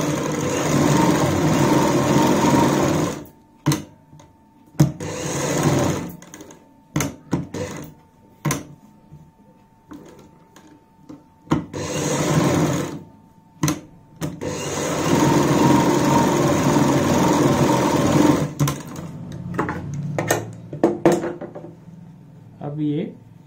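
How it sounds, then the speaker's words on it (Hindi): Sewing machine running in long steady bursts as it stitches a kurti neckline, loud and close, stopping and restarting between runs with a person speaking in the pauses. "अब हम यहाँ पे एक पैर चौड़ाई वाली सिलाई लगाते हैं।"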